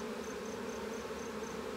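Honeybees hum steadily over a brood frame with capped cells during a hive inspection, a close, continuous buzzing drone with faint regular high ticks in the background.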